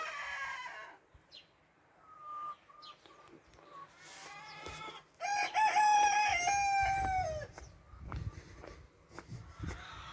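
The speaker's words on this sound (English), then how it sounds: "Sounds like a load of chickens right at the top." Rooster crowing repeatedly among clucking chickens up the slope of a Troodos mountain village in Cyprus in the early morning; the crows are loud and drawn out, with scattered clucks and bits of outdoor noise in between.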